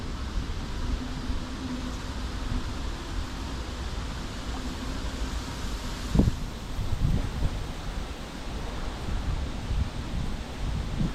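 Strong wind roars continuously into the microphone while fishing, a broad rumbling rush with a brief louder gust and clatter partway through.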